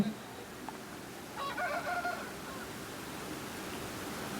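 Roosters and hens at a poultry market in Vijayawada: one short, faint fowl call rises briefly above a low, constant background murmur.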